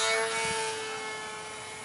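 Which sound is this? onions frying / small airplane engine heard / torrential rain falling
small airplane engine heard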